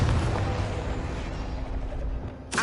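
A Confringo fire spell blast in Hogwarts Legacy erupts as a deep, rumbling explosion that decays over a couple of seconds, followed by a sharp new burst at the end.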